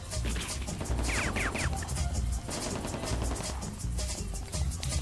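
Dense, continuous gunfire from the Grand Theft Auto 1 video game, rapid popping shots packed into a loud, unbroken barrage with a few brief squealing effects mixed in.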